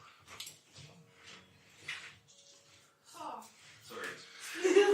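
A pet dog whimpers and yips in short bursts in a home kitchen, mixed in among several people talking over one another, with a louder high whine at the end.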